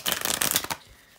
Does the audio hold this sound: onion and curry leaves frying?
no